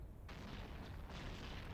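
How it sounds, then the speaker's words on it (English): Missile explosions in the space game EVE Online during Triglavian hunting with a Paladin: a continuous low rumbling roar with bursts of hiss layered over it, swelling twice in quick succession. "Might be the explosions we can hear coming from their missiles."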